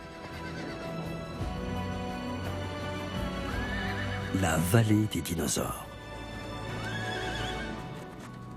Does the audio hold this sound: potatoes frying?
no